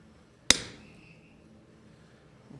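A hammer strikes hot steel stock on the face of an anvil while shearing it: one sharp, loud, close blow with a brief metallic ring that fades into quiet.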